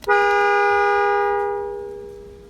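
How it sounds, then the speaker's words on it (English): A 1990 Eunos Roadster (Mazda Miata) with a Momo steering wheel gives a single steady horn blast of about a second and a half, loud and close, which then fades out. "you get this awesome, beautiful Momo steering wheel with horn"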